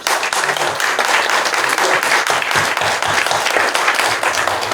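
A congregation at a church ordination ceremony applauds in praise of God, dense sustained clapping from a full room that holds steady throughout, with faint voices mixed in.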